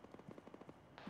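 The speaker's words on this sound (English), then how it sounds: "Gunfire a lot closer." Gunfire in a military video game session, a rapid burst of about ten evenly spaced automatic shots, moderately distant and fairly faint, ending in a louder, broader crack.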